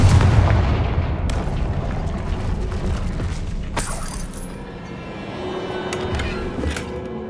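A Confringo blast spell explodes in the Hogwarts Legacy video game, opening with a heavy boom and rumble, followed by crashing debris, sharp cracks and clattering impacts that fade over several seconds.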